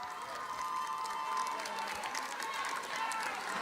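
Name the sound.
audience applause for Hayat at Vidbir final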